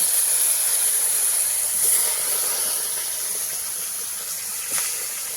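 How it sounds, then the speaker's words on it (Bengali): Koi fish rubbed with salt and turmeric sizzling in hot oil in a kadai, a steady, loud, close frying hiss that lasts the whole time with no talking. "মাছটা এবার ভেজে নেব"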